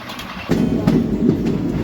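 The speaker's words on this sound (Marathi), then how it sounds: "या प्रवासात काही गाड्यांसोबत क्रॉसिंग सुद्धा झाली." A passing train crosses, heard from aboard the Nizamabad–Pandharpur Express: after a short quieter moment, a loud, close rumble of wagons rolls past with steady clattering wheels.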